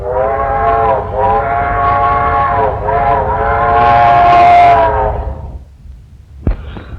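A loud, sustained train whistle blows for several seconds over rumbling rail noise, then cuts off, leaving a quieter rumble and a sharp clank.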